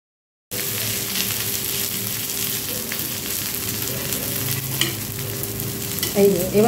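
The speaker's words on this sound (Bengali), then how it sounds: "ভালো মতো ব্রাউন করে ভাজতে হবে।" Bengali street-food evening snacks fry in oil until browned, a loud continuous bubbling sizzle starting abruptly after a brief silence, with a few clinks of utensils near the end.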